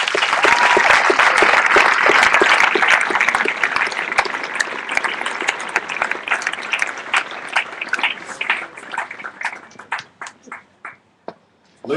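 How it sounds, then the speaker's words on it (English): Audience at a military graduation and commissioning ceremony for new second lieutenants applauding loudly; dense clapping from a large crowd that thins into scattered individual claps and fades out over about ten seconds. "let's give these new second lieutenants a round of applause"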